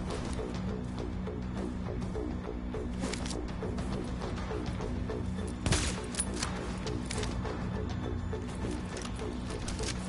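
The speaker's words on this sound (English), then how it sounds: "So I can try to land a couple shots to the snipers." Sniper rifle shots in the video game The Division: a couple of sharp cracks, one clearly louder, over a steady ambient bed with cooing pigeons and no speech.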